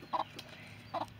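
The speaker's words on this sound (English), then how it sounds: "These are turkens, also known as Nick and Necks." Turken chickens, the bare-necked breed, give two short, soft clucks spaced under a second apart on a farm, faint and with no one talking.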